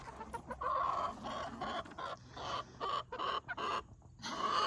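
Chickens on a homestead farm cluck steadily and close by, with several birds calling in overlapping bursts against a busy outdoor background.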